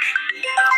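A mobile phone ringtone plays in an outdoor rural setting, a brief, loud, close burst of bright electronic tones with no talking.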